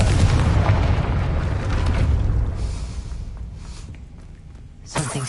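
Confringo spell explosion in a Harry Potter video game: a loud, deep boom that rumbles and slowly fades over several seconds, followed by a short sharp burst near the end.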